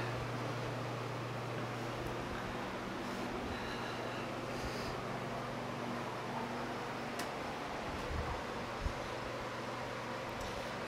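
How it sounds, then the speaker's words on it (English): A 1973 Hoover Convertible U4009 upright vacuum cleaner runs with a steady, even motor drone and airy rush. The sound stays constant and close throughout, with no talking. "To me, this is definitely a real vacuum."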